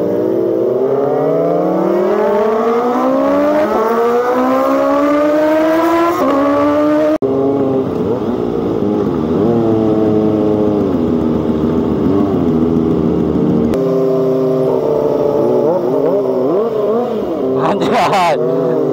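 Three Kawasaki ZX-25RR motorcycles rev their engines together, loud and close, high-pitched four-cylinder wails rising and falling in long sustained pulls that overlap and pause briefly between bursts.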